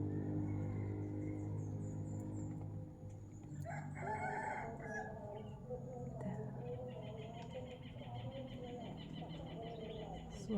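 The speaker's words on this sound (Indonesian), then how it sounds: "Bunyi burung-burung." Birds call from up in a cherry tree outdoors, with drawn-out, rooster-like crowing and shorter chirps rising over a steady low background hum, fairly faint and at some distance.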